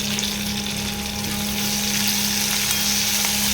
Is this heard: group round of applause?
no